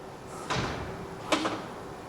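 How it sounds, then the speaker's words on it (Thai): Doors on the Kia EV9 concept car swing open at an auto show, giving two distinct mechanical clunks about a second apart against a quiet hall background. "Can you open the doors please"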